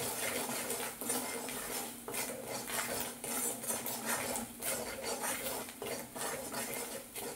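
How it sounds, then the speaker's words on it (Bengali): A spoon stirs spice masala as it fries in a pan for a rohu fish kachori filling. Metal scrapes and clinks repeat steadily over a soft sizzle, close and continuous. "মশলাটা কষে নেবো।"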